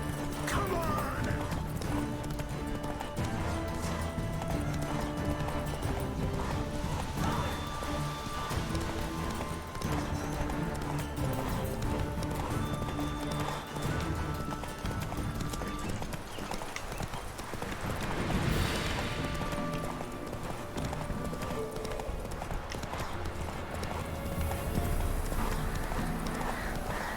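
Roach, Geralt's horse in The Witcher 3, gallops with rapid, rhythmic hoof clip-clops over game music and ambience, with a brief whinny and occasional voices along the way.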